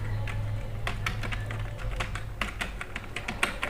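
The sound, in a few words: typing on a computer keyboard into an Excel cell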